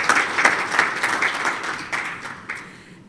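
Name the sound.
participants clapping hands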